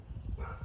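A female dog gives a single short, faint bark, somewhat distant, over quiet background.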